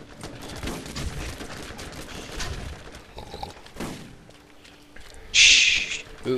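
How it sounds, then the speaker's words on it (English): Gunfire in a Borderlands shootout with bandits: scattered shots and thuds crackle at moderate distance, then a louder, harsh burst erupts near the end. "We're shooting stuff at bandits."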